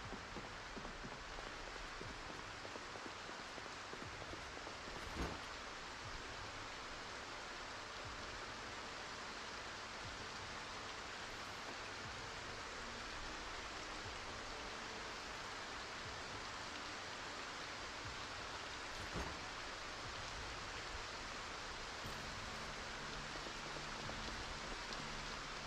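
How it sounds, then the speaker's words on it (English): Steady heavy rain in the Project Zomboid video game, an unbroken dense hiss of downpour that fills the whole stretch with no talking. "Oh man, that rain sound is so good. So immersive."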